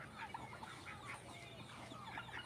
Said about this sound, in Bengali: আমাদের এই দেশি মুরগিগুলো